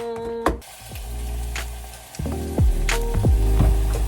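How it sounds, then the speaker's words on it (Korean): Unripe store-bought kimchi stir-fried in a pan for kimchi stew, with bursts of sizzling, clattering utensil knocks and scraping, close and fairly loud, with no talking. "김치를 볶아줄 건데요"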